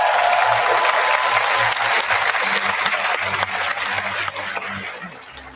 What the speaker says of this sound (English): Give yourselves another big round of applause.